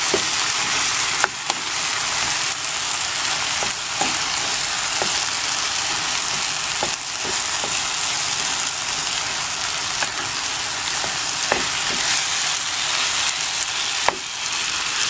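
Ground pork frying in a pan, a constant loud sizzle with periodic scraping clicks as it is stirred, continuing without talk.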